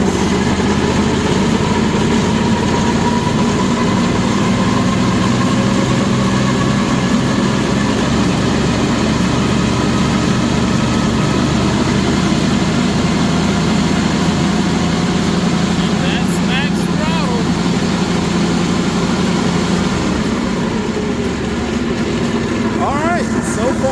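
A repaired Walker lawn mower engine runs steadily at a low, rumbling idle for the whole stretch, close and loud, with a faint squeaky whine creeping in near the end.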